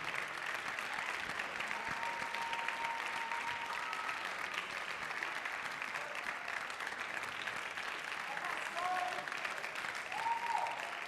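A large audience applauds parents and guardians at a high school talent show in a cultural arts center, a steady, dense wash of clapping that holds evenly for the whole stretch with faint crowd murmur and a few cheers underneath.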